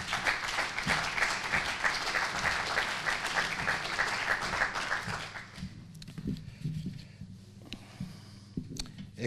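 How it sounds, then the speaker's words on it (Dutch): Warm applause from guests at a parliament studio opening swells loudly for about five seconds, then fades into scattered claps, footsteps and room shuffling. "Dames en heren, geweldig applaus voor Ludwig Verdaan."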